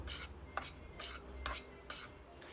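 Makhana powder and crushed dry fruits are stirred and roasted in a pan on low heat, a faint rhythmic scraping of a spoon against the pan in short repeated strokes, quiet and close with no speech.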